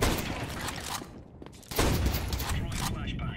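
Rapid bursts of gunfire from a Tech-9 or MAC-10 in Counter-Strike 2 crackle in dense volleys, briefly dropping off before a second loud flurry, with a voice talking over the shooting.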